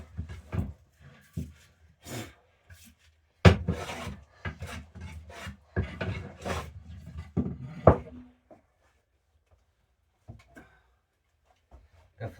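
A scrub hand plane shaves wood on a workbench in a run of rasping, irregular strokes, loud and close, before the cuts stop and a few faint knocks are left in near silence.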